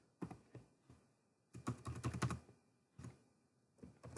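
Quiet clicking of a computer keyboard as text is typed, with short bursts of keystrokes separated by pauses.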